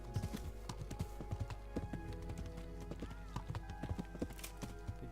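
Horse hooves clip-clop at a steady riding pace in Kingdom Come Deliverance, with a brief neigh mixed in over background music and ambience.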